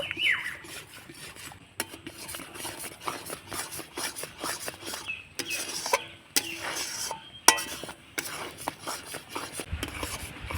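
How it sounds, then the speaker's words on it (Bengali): A utensil keeps scraping and stirring a thickening cream filling in a pan, making rhythmic rasping strokes and occasional metallic knocks against the pan, close and uneven, with no speech. "আমি এভাবে করে অনাবর্ত নাড়তে নাড়তে দেখবেন কি ক্রিমের মতো হয়ে আসবে"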